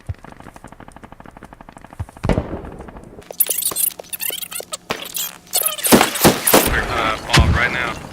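Mortar rounds in a video game firing and landing: a run of rapid ticking, then a loud muffled launch followed by a series of sharp impacts and crackling blasts, with talk mixed in.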